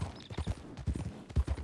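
Hooves of a Shire mare in the video game RedM clip-clopping in an uneven trotting rhythm, fairly quiet and close, with no talk over them.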